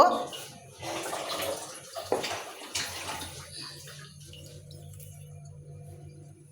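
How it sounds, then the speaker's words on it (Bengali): Chicken pieces go into hot oil in a clay pan, giving bursts of crackling sizzle at the start. The sizzle then settles into a quieter, fading bubble with a low hum beneath it. "তেলটা গরম হওয়ার পর আমি দিয়ে দিলাম মুরগির মাংসগুলো ভেজে নেব"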